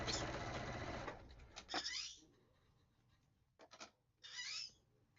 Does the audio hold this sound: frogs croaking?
no